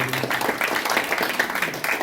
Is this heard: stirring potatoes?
no